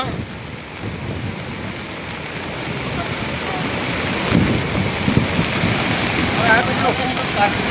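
Surging flood water of the Ravi river at record level, a steady broadband roar of rushing water with wind buffeting the microphone and some voices nearby.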